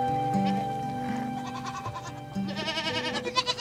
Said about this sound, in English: The goats spend the morning looking for tender leaves. Then they make their way home to the pen.